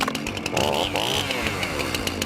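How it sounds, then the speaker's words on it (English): A chainsaw revs close by, its engine whining up and down in pitch through a couple of throttle surges before settling back to a rough, buzzing idle. "My chainsaw's ready to rip up some regulations."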